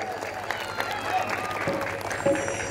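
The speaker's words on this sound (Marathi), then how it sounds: "साऊंडवाल्या दादासाठी एकदम जोरदार टाळ्या वाजवा" A crowd claps loudly and continuously for the sound operator at a public event, dense applause mixed with voices and cheers.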